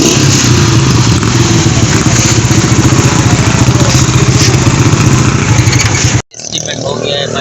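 A motorcycle engine runs hard inside a repair shop full of bikes, a loud close continuous rumble that cuts off abruptly near the end, with someone talking over it.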